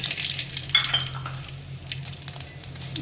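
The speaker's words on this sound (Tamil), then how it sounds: "எண்ணெய் காஞ்சிருச்சு கடுகு போட்டுக்கலாம்" Mustard seeds dropped into hot oil in a pan sizzle and crackle with a steady, close hiss and a few small pops.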